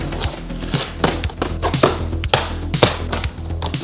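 A knife slicing open a large cardboard shipping box for a Creality Falcon A1 Pro desktop laser, a rapid series of close, crisp taps and scrapes with no talking.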